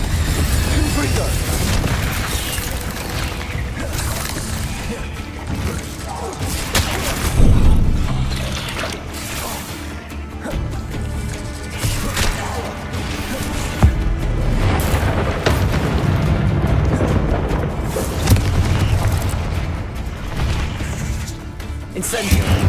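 Confringo blasting spells go off in the video game Hogwarts Legacy as a dense run of loud booms and explosive bursts, with game voices and effects mixed in.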